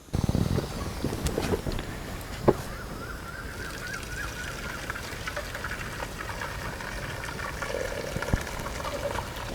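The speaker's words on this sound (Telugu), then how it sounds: "ఇప్పుడు ఈ నీళ్ళన్నీ వంచేసి ఈ ముక్కల్ని కూసేపు ఆరబెట్టుకోవాలి" Water poured off boiled cabbage pieces in a kitchen, a continuous trickling drain with small splashes and a faint clink, close and moderately loud.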